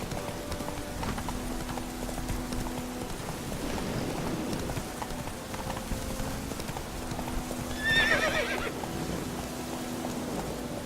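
A horse in The Witcher 3 trots and gallops through rain, hooves clip-clopping steadily with rain hissing underneath, and a short whinny rises near the end.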